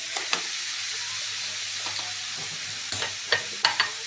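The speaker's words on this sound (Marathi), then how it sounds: "साखर पूर्णपणे आपल्याला कमी गॅसवरतीच वितळून घ्यायची आहे यामध्ये एकसारखं हलवत" Coconut and sugar being stirred together in a pan as the sugar melts over low heat, with a soft steady sizzle and a few sharp scraping strokes of the spoon near the end.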